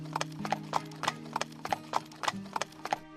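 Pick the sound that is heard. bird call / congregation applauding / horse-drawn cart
horse-drawn cart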